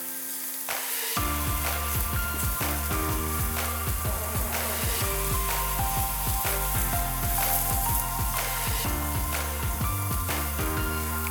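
Spinach sizzling in a hot pan as it is stirred for a spinach mushroom chicken lasagna, a steady close crackle with repeated soft scraping strokes throughout.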